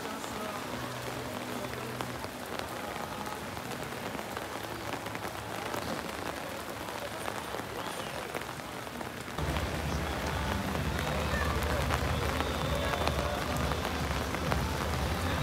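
Heavy rain pours steadily on surfaces in Slovenia, a dense, constant hiss that swells louder partway through, with faint voices underneath.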